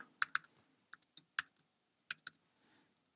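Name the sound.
typing on a computer keyboard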